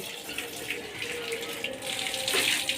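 Water running from a household tap while hands and feet are washed, a steady close hissing splash with small fluctuations, and faint voices in the background.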